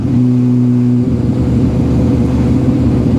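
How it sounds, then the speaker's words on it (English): Suzuki GSXR 750/600 sport bike engine cruising around 46 mph in fourth gear, a loud, close, steady mid-pitched drone with a brief tonal whine at the start, then continuous engine and wind rumble. "We're just cruising about 46 miles an hour, fourth gear."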